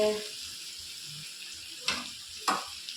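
Ivy gourds fry in oil in a pan, a soft steady sizzle with a couple of sharper scraping or stirring bursts near the end.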